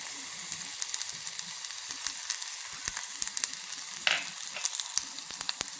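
Chopped taro stem and green chilli frying in coconut oil, a light crackling sizzle broken by sharp pops and the scrape of stirring, close up and with nobody talking.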